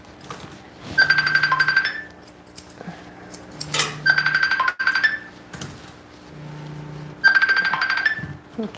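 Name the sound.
phone ringing or notification sound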